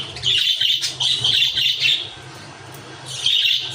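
A small pet bird, a young chick, chirps and squawks close by in shrill bursts with brief pauses between them, loud and alone.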